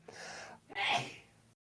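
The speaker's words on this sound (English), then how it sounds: "having a sneezing fit" A single sneeze with a sharp inhaled gasp followed by a forceful burst, close and fairly loud, trailing off quickly.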